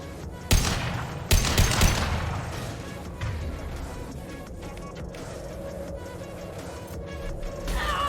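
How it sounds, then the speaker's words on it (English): Two sharp, heavy gunshot blasts from a high-impact weapon in the video game Mass Effect ring out close and loud, followed by a smaller burst, then a lingering rumble of in-game combat ambience. "Firing a high impact shot."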